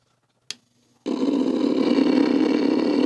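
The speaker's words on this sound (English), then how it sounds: "Want a motorcycle? Sounds like it." Motorcycle engine sound from an arcade game machine at an amusement equipment sale: a short click, then a steady loud buzzing engine drone starting about a second in and running without pause to the end.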